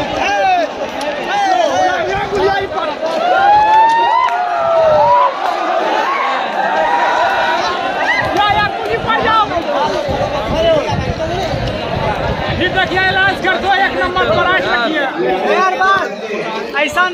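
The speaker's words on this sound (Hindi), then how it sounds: "भीड़ देखो गाइस कितना भीड़ है" Dense crowd hubbub at a busy train station, with many overlapping voices chattering loudly and steadily throughout, footsteps and movement mixed in.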